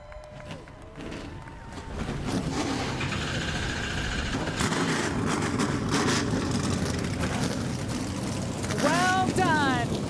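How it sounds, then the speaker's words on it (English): NASCAR Craftsman Truck Series trucks firing their engines before a race in Connecticut, a rising, sustained roar of many engines over crowd noise, with a voice audible at the start. "Drivers, are you ready? Start your engines!"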